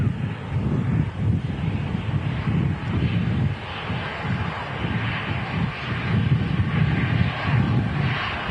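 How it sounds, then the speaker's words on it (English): An easyJet Airbus A320 jet airliner at Manchester Airport gives a steady, broad engine roar with low rumble, heard from a distance and buffeted by wind noise throughout. "It's easyJet A320."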